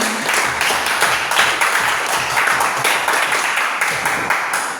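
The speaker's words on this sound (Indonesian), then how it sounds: "Mari kita berikan aplaus dulu untuk kita semuanya" A classroom of students applauds together after a lesson. The clapping is dense and steady for almost five seconds and then begins to fade at the very end.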